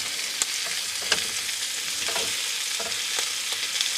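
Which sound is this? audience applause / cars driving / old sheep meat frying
old sheep meat frying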